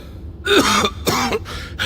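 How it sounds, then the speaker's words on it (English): A male character in the Genshin Impact video game coughs in three loud, harsh bursts close up, each a rasping, throat-clearing hack separated by short gaps, with no talking. "Why is he coughing so much?"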